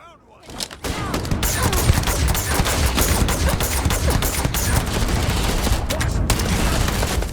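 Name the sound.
gunfire in the video game Starfield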